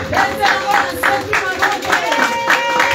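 Congregation at an Easter church service clapping in steady rhythmic acclaim, a dense wash of hands beating roughly in time alongside sung or spoken voices and music.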